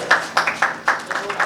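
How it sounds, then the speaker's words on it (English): A few people clapping for Representative Lashan Ford, sparse, separate claps in a loose rhythm at close range over a short span. "please give a big round of applause"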